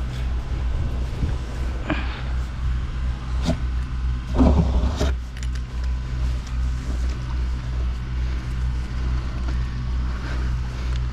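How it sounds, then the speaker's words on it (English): A vacuum truck pumping out a sludge-filled septic tank clogged with wipes makes a steady, loud, low droning hum with a few brief knocks and clatters near the start. "So we're gonna pump it out and unclog it."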